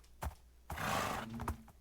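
A Minecraft horse gives a loud whinnying neigh in the middle, framed by a few sharp hoof clip-clops before and after, with no voices.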